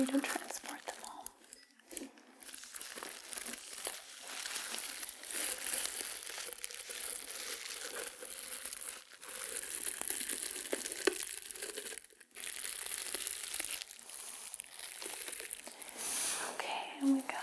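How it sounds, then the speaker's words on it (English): Close crinkling and crushing of a bubble wrap pouch, continuous soft rustles and crackles with brief pauses, under faint whispered speech in a quiet setting. "I have just a little pouch that is made of bubble wrap"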